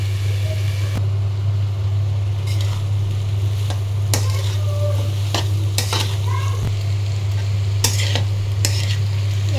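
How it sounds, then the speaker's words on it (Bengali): Pumpkin fry with chili paste stirred in a pan, a steady close frying hiss under a constant low hum, with intermittent scraping spatula strokes and knocks, no speech. "ভালো করে পেস্ট মরিচ ভেজে নিচ্ছি। এখন আমি ভালো করে মিশিয়ে নেব পেস্ট মরিচ।"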